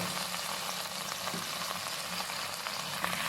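Stink beans with shrimp paste and minced pork stir-fried after rinse water is poured in, giving a soft, even, continuous sizzle with faint stirring scrapes and no voices.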